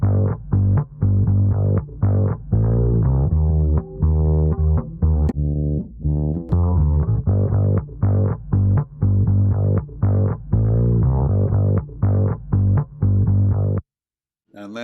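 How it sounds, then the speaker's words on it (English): A fretless bass plays a loud, close, rhythmic line of plucked notes that glide between pitches, with steady repeated attacks and smooth slides. "slidey around fretless bass,"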